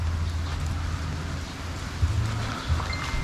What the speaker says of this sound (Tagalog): Kaya ngayon umulan na naman.